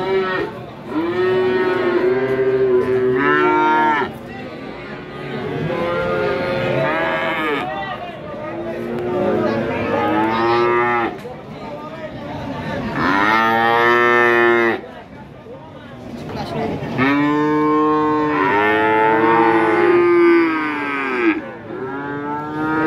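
Male calves, red Pegon cattle, mooing repeatedly at a busy livestock market in Tuban, East Java, with loud, drawn-out calls overlapping one another close by under steady crowd chatter and people talking.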